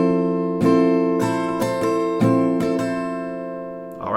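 Acoustic guitar strumming pattern, a handful of down and up chord strokes ringing out close and clear, ending with a quick scrape.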